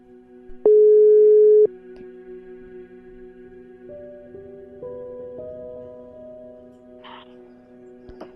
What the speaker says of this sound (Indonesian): kali ini kita langsung telepon narasumbernya sebentar.